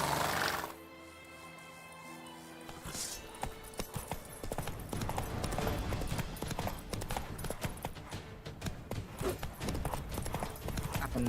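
Roach the horse galloping in The Witcher 3, a rapid run of hoofbeats that builds after a quieter opening and keeps a steady, close pounding rhythm over game music.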